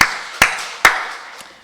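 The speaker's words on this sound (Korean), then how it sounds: "우리 박수를 하나님께 드리겠습니다" A church congregation at a Sunday worship service claps in unison, giving three sharp, loud claps at an even pace followed by a fainter fourth, in a reverberant hall.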